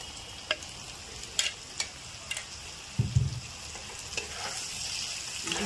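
Fish oil curry with fried eggplant and potato being stirred in a pan, soft frying sizzle with a few clear scrapes and taps of the spoon, one thicker stirring burst midway.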